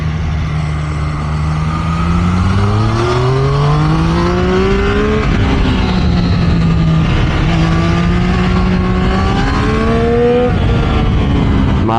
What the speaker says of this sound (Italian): Madonna mia, che moto, Nico, che ti sei comprato.